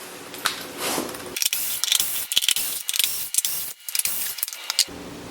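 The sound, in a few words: removing T27 bolts from Harley-Davidson FXDR air cleaner cover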